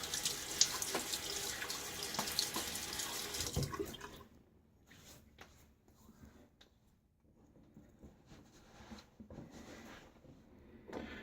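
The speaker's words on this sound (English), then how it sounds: "Splash water face." A bathroom sink tap runs loudly for several seconds, then stops, followed by softer splashes as water is cupped onto a face before a wet shave.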